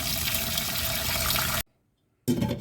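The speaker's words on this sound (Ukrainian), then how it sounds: "наливаю водичку гарячу" Loud, steady rush of hot water pouring into a pot for about a second and a half, a brief silence, then the pouring resumes.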